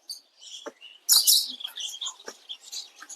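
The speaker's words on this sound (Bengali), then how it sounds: "দেখুন কতগুলো পাখি" Several small birds, including cockatiels, Java sparrows and long-tailed grass finches, chirp and tweet in quick, overlapping bursts, a burst of shrill twittering standing out, fairly close.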